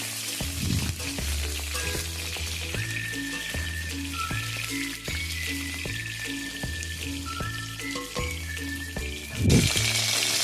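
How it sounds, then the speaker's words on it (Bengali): Peeled pointed gourd (potol) frying in oil with a steady crackling sizzle, broken by repeated knocks of stirring and a louder burst near the end; no talking. "পটলগুলো দু সাইডে কেটে তারপরে সেটাকে ভালোভাবে খোসা ছাড়িয়ে দেখে নাও আমি ভেজে নিচ্ছি"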